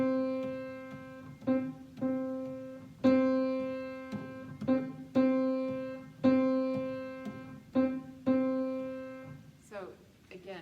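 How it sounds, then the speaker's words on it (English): A steady pitched tone is struck in a repeating long-short pattern, a lingering note followed by a quick one, ringing out clearly with no voices. "now I'm going to introduce a dotted 8th, 16th rhythm"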